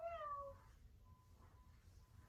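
A voice imitates a cat's meow during a kids' yoga kitty pose, giving one drawn-out rising and falling meow up close, followed by a faint lingering tone in quiet room sound.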